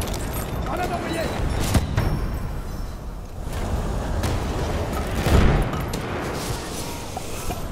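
Battlefield 1 Conquest battle with a grenade blast and scattered gunfire, a dense, noisy din of distant shots and booms with one louder burst near the end, under speech.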